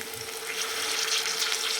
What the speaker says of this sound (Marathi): आपल्याला फक्त 1 कप पाणी टाकायचं आहे